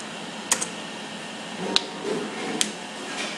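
Computer keyboard keys clack in a few sparse, separate taps against a faint background hum, with short gaps between strokes during coding work.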